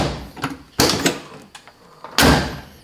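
A Triumph Spitfire roundtail car door being shut after adjustment: several sharp thuds and knocks close by, the loudest slam near the end, with quieter clicks between.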